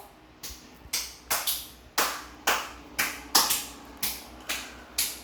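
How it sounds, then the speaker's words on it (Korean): A small group, likely a class, claps in a series of sharp, separate hand claps, about eleven bursts spaced unevenly, each loud and close with a quick decay. "박수!"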